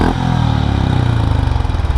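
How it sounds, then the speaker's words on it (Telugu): A Honda CB 350 RS motorcycle engine idles close by, its exhaust giving a loud, steady, evenly pulsing thump. "సౌండే ఈ ఎగ్జాస్ట్లోకి వెళ్ళి ఎప్పుడైతే బయటకు వస్తుందో కొంచెం డిఫరెంట్గా వస్తుంది"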